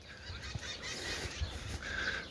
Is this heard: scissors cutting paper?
no